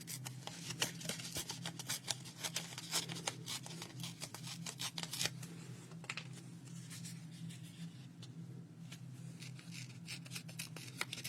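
Leftover paper scraps torn by hand for a paper collage, a run of close, crisp tearing and rustling bursts over a steady low hum, busiest in the first half and thinning out later.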